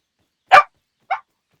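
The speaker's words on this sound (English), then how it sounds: "there's this dog that's making a fair bit of noise" A dog barks twice at close range, one loud bark followed by a shorter, softer one, with silence around them.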